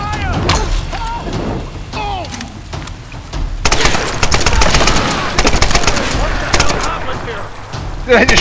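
Rapid bursts of gunfire from the Tomb Raider video game, a sparse few shots at first and then a dense, loud, continuous volley, with a voice talking over the action.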